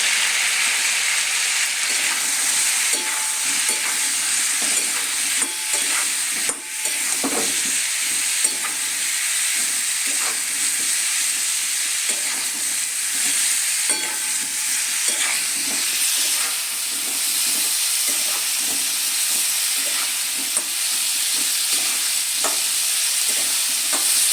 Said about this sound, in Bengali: কপিগুলো আমার ভাজা হয়ে গেছে। এবার আমি এগুলো তেল থেকে তুলে নেব।